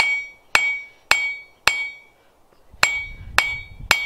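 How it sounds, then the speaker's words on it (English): A blacksmith's hammer pounds hot iron on an anvil in steady strikes, six sharp ringing blows with a metallic ping, a brief pause midway, loud and close with no talk. "as soon as it starts turning black, I'm wasting my time pounding on it."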